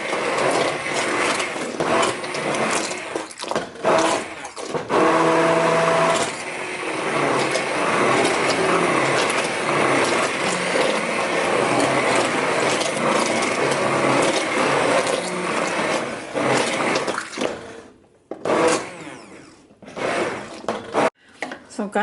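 An immersion blender purees a vegan potato, leek and celery root soup with a steady, grinding motorized whir that runs for most of the stretch before cutting off near the end, leaving short pauses.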